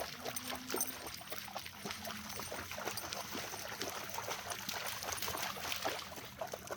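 A dog laps water from a river, a steady run of quick, faint, close slurps and trickles over soft flowing water.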